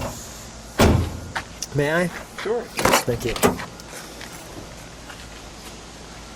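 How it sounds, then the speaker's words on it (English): A big, heavy door on a 1979 Buick LeSabre Sport Coupe swings open with a close, solid clunk and latch clicks, while people exchange a few brief words. "That's a big, heavy door."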